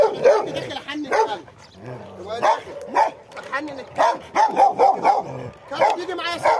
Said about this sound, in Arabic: الكلب يهجم لازم كده اهو